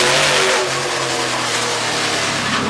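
A race car, number 17, in a 2009 European Le Mans Series race, with a loud, close engine revving hard and accelerating continuously, a dense mechanical roar with a steady low drone underneath.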